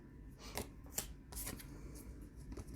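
Tarot cards being shuffled and drawn, giving soft papery riffles and a few sharper snaps in short bursts, close and quiet, with no voices.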